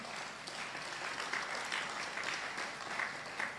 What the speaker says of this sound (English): I think somebody will clap.